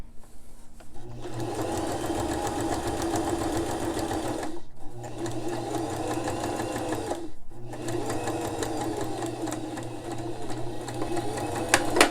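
A sewing machine runs a quarter-inch seam along fabric while making face masks, with a loud, close mechanical whir in three long continuous bursts separated by brief pauses.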